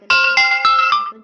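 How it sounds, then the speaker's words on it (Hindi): A ringtone preview plays on a Samsung Galaxy M04 phone: a bright, close chiming melody of four quick repeated tonal notes, loud and clear with no talking. "यहाँ से आपको अपने फ़ोन में रिंगटोन चेंज करना।"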